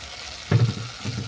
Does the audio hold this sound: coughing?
no